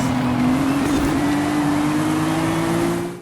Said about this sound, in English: the audible drivetrain flex in some of the cornering